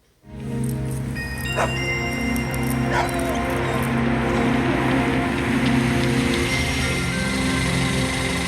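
A dog barks and whimpers in agitation at another dog, yips and whines layered over steady outdoor background noise, close and fairly loud throughout.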